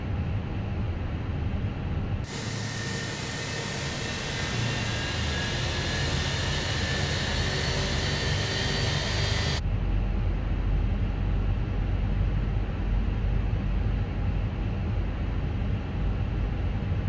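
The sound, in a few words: Airbus A320 jet engine starting, from video game MSFS2020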